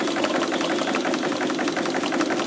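A triple expansion model steam engine running under steam with an uneven rotation, a steady rapid chuffing and knocking beat that stays close and loud throughout, with slight irregularity in its rhythm.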